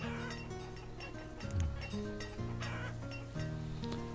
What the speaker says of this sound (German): Ja, hallo, Hühner hier ohne Ende